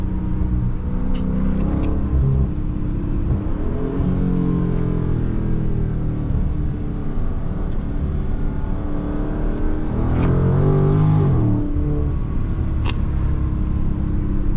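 A Dodge Scat Pack widebody engine revs and accelerates, a loud, near, rumbling drone that swells and changes pitch several times, with no one speaking.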